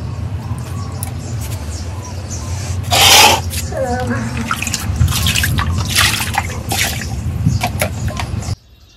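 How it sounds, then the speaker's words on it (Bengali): Water poured out across a floor during cleaning splashes and trickles in a steady wash, with a louder gush near the middle, before cutting off abruptly at the end. "একটু জল ঢাললা দিলাম, এই জলটা আস্তে আস্তে বাইরে যাবো গা।"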